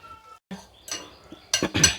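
A spoon clinks and scrapes in a bowl while garam masala and coriander are mixed in, giving a few short, close knocks that grow louder toward the end, with no talking.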